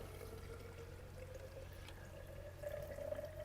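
Distilled water poured into a suspended-solids sample in a settling test, a faint, steady trickle with a thin rising tone as the vessel fills, growing slightly louder near the end.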